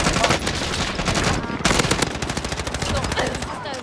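Rapid automatic gunfire from Call of Duty Warzone, loud sustained bursts of machine-gun fire with dense rattling shots throughout.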